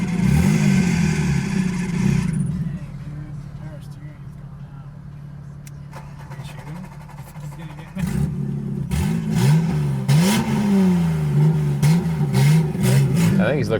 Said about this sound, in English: It's not an S65, but for an inline 6, it sounds pretty good.